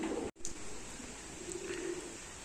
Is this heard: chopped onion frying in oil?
no